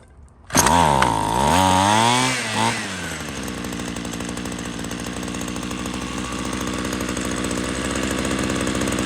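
A Ryobi CS26 string trimmer with a freshly installed carburetor is pull-started; the small two-stroke engine revs up loudly with a wavering pitch, then settles into a steady, buzzing idle, close by and alone.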